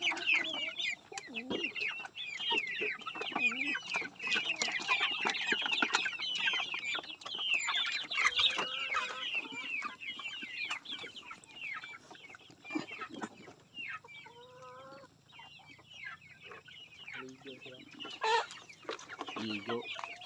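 Chickens on a Philippine countryside farm cluck and squawk in busy, overlapping bursts close by, with a few sharper calls standing out against quiet farmyard background.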